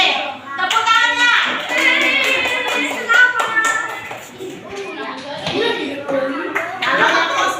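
Schoolchildren in a classroom clap together in a lively burst while kids chatter and talk over the noise, the claps mixed closely with young voices.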